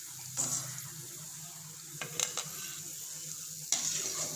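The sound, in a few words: chickpea vadai deep frying in oil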